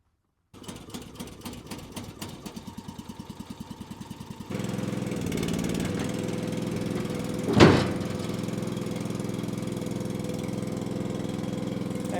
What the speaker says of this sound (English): Pony motor is a success. Pony motor is on